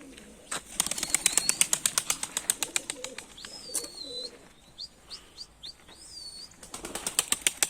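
Rapid bursts of wings clapping and flapping as pigeons take off in flight, with a few thin whistling chirps in a quieter stretch between.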